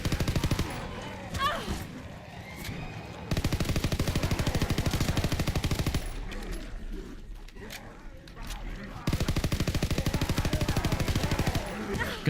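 PPSh submachine gun in Call of Duty WWII zombies fires in two long, rapid full-auto bursts, loud and close, with a quieter stretch of talk and game noise between them.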